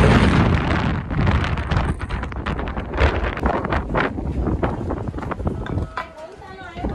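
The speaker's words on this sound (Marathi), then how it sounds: "हवा भरपूर मोठ्या प्रमाणात हवा चालू आहे।" Strong wind roars steadily across the microphone high on Girnar mountain, a dense buffeting rush that barely lets up, with a voice faintly present beneath it.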